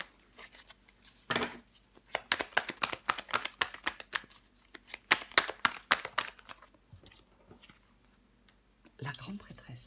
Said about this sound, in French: Je vais recouvrir le 5 de pentacle.